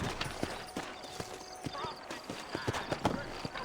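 Horse hooves clip-clop in an irregular walking rhythm in the Western video game Red Dead Redemption, close and fairly soft, with a faint neigh and other game ambience in the background.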